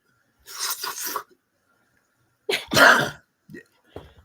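Several harsh coughs come in two bursts separated by silence, followed by a couple of short, quieter throat sounds.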